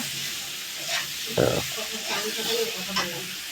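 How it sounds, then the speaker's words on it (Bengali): Food frying in a pan with salt and turmeric, a steady close sizzle with bursts of louder crackling and spatula stirring scrapes, rising in the middle of the clip. "এর মধ্যে একটু নুন হলুদও দিয়ে দেবো এরকম আমরা ভেজে নিচ্ছি"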